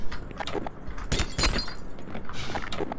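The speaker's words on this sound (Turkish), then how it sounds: "Lan ne kırılmaz cam, cam yapmışsınız be arkadaşım." Unbreakable glass being struck in the video game Black Mesa, giving a few sharp, loud impacts with glassy ringing close together, followed by fainter knocks and no speech.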